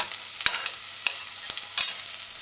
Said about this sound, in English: add your chopped onions. Stir it in a few times.